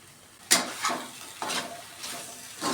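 A spoon stirs and scrapes a beetroot mixture with turmeric, chilli and salt in a pan, a few soft separate scrapes with a light sizzle, fairly quiet.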